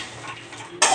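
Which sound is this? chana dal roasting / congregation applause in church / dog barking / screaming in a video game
chana dal roasting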